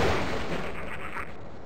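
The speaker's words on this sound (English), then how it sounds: "He was right beside the explosion." Explosion in the shooter Half-Life: Blue Shift, played in Sven Co-op: a sustained, noisy rumble and crackle fills the clip, steady and fairly loud before slowly easing off, with no talk over it.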